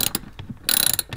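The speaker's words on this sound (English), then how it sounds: "A T50 we'll be using to remove this" A hand ratchet fitted with a T50 bit working a car seat bolt in an Audi S3, giving a few short, close ratcheting clicks in quick bursts.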